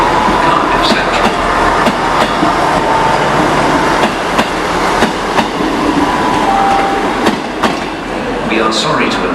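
A Great Western Railway train bound for Penzance pulls out of Exeter St Davids station with loud, close rumbling and repeated clickety-clack wheel knocks over the rails, while faint voices murmur in the station background.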